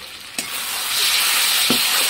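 A soybean and chicken mixture with yogurt sizzles and hisses steadily in a hot pan, with a couple of sharp scraping stirs from a spatula punctuating the continuous frying sound.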